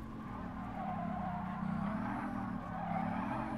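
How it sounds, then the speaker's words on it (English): Car tires squeal continuously through a series of same-angle turns in Gran Turismo Sport, a steady engine drone under a long, wavering squeal that rises and falls softly without a break. "So it's like squealing the whole time."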